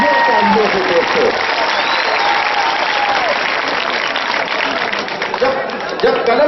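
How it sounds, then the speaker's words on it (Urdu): Steady, dense applause from a large audience at a mushaira, continuing evenly throughout with some crowd noise mixed in. "دوستوں پرزور تالیوں سے استقبال کریں, پرزور تالیوں سے دوستوں."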